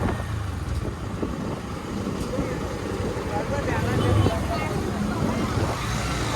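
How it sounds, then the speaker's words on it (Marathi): Road traffic near Murbad on the way to the Mhasa fair: many vehicles pass in a steady rumble of engines and tyres, swelling briefly as a closer one goes by, with a voice speaking over it. "हे बघू शकता या बाजूला भरपूर गाडी येतात"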